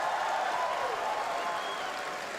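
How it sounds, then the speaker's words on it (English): A large audience at the Pokémon World Championships in Hawaii claps continuously in a dense, even wash of applause, steady and sustained throughout. "So please, one more round of applause."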